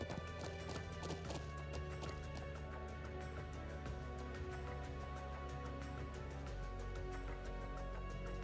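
Horse hooves clip-clop steadily in the PC game Trails of Cold Steel II, a brisk, even rhythm of sharp hoof strikes over continuous game music.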